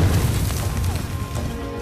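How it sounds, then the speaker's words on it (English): Heavy battlefield fire at Gettysburg during the American Civil War: a dense, rumbling low boom and crash with scattered sharp impacts, loud and close. "But they're under heavy fire"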